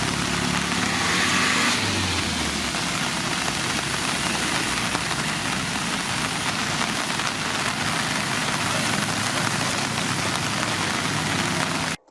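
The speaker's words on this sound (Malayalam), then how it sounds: "ശക്തമായ മഴയിൽ പെരിന്തൽമണ്ണയിലും സമീപ പ്രദേശങ്ങളും വെള്ളത്തിൽ." Heavy monsoon rain pouring steadily over Perinthalmanna's flooded bypass road, a dense, loud, continuous roar of rain hitting surfaces with a faint engine hum beneath.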